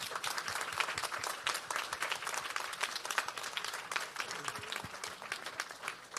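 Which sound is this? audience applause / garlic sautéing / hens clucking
audience applause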